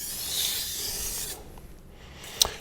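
A knife blade is stroked across a Shapton Kuromaku 1000 grit whetstone, giving a steady, gritty rasp that runs for over a second, then falls quiet and ends with one sharp scrape.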